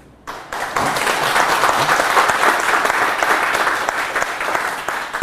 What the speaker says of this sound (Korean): 여기에 박수가 나오죠.